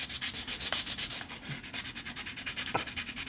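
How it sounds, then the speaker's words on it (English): Hand sanding a small part of a Klingon D7 scale model, quick rhythmic back-and-forth scratchy strokes, close and fairly quiet, with a couple of faint knocks. "Now sanding and this kind of work, the more you do, the better you get at it"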